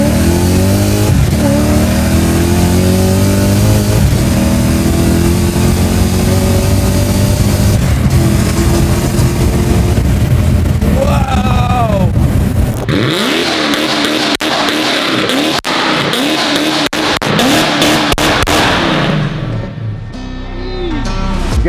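A supercharged V8-swapped BMW E30 pulls hard and loud through rising revs with quick gear changes, and the engine roar and supercharger whine climb again and again before easing off at the end.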